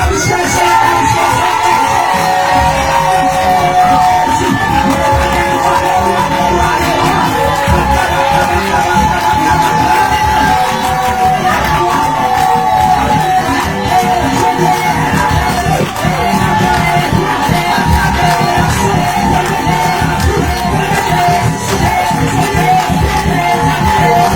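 A church congregation at a Wednesday worship service shouts and acclaims loudly, and a dense, continuous roar of cheering voices and yells fills the whole clip at high volume.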